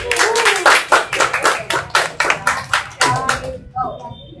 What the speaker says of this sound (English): let's have a big hand clap for all of us who came here today